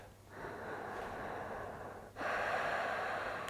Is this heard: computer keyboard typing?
no